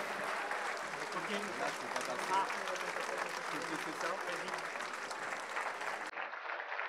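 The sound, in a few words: audience applause at aerobatics championship opening ceremony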